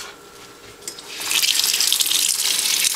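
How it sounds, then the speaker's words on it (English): Tap water starts running about a second in and rushes steadily over wool and acrylic fabric dyed with food coloring, a close hissing splash under no talk. "But the truth will come out when we rinse these off."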